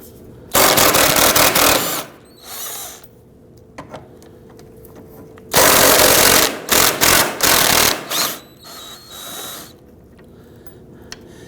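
A power ratchet or impact tool loosening 10mm bolts on a 2009–2017 Volvo XC60 during AC condenser replacement: loud buzzing mechanical bursts of a second or two, repeated several times with pauses between, close up.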